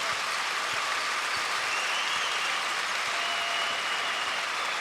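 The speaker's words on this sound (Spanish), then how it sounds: "Aplausos para Ben Dewar." A basketball arena crowd at a Spanish ACB league game between Obradoiro and Manresa applauds, a broad, even wash of clapping from many hands that fills the whole stretch without letting up.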